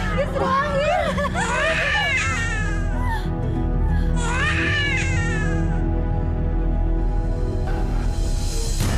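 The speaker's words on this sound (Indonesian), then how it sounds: "Saya seperti mendengar suara tangisan" An infant cries in repeated rising and falling wails over steady background noise and a low hum, with a quieter stretch in the middle before a faint final cry.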